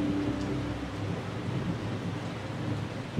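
Steady rain with a low rumble of distant thunder, a constant soft wash of sound next door to a television, with no clear voices.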